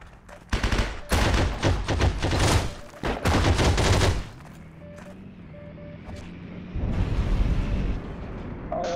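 A tank fires explosive shells in the war game Heroes & Generals, heavy blasts and rapid gunfire crowding the first four seconds, then a lull and a swelling rumble of further fire.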